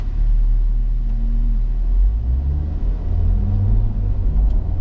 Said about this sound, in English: most of the noise comes from the tires and wheels